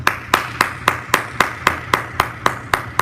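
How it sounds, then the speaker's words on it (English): A church congregation claps together in a steady, even rhythm, about a dozen sharp, loud claps spaced evenly with no talking. "Give God a hand clap for the word."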